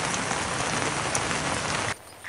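Steady, close rain patters on surfaces during a rainy-day grass carp fishing outing, an even hiss that holds for about two seconds before dropping away abruptly.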